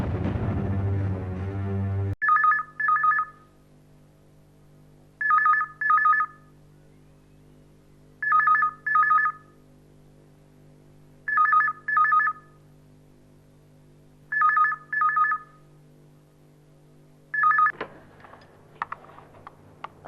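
A telephone rings in a double-burst pattern, six paired electronic trills evenly spaced about three seconds apart over a low steady hum, clear and close, with a brief clatter as the call is picked up at the end.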